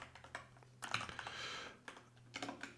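Computer keyboard keys Q, W, A, S, D and Z are pressed in a quick, irregular run of soft clicks and taps, faint and close, with a brief busier flurry in the middle.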